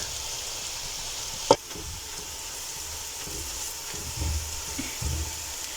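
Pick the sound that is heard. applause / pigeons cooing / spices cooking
spices cooking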